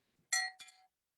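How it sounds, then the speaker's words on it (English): A bell rung at a Rotary club meeting: two quick bright rings, the first louder and the second softer, close and alone against silence. "Padilla rings the bell for Karen Friedman."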